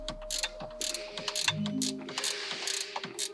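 A ratchet clicks in quick, quiet bursts while the factory grille bolts on a Toyota LandCruiser 300 Series are tightened, with light metallic handling sounds between the strokes.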